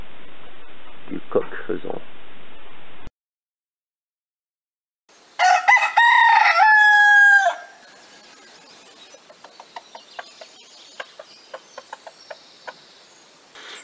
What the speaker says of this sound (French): Le cri caractéristique du coq faisant.